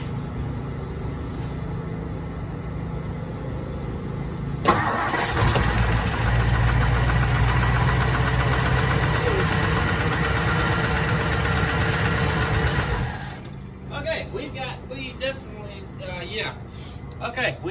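A 1963 Mercury Monterey engine, just back from a fuel pump repair, cranks and roars to life. It runs loud and rough for about nine seconds, then cuts off, and voices talk afterward.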